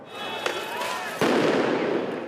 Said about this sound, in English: they have retaliated with rubber bullets and tear gas